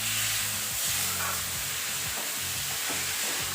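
Minced keema sizzles steadily in hot ghee in a pan, a close, continuous frying hiss with faint stirring scrapes throughout.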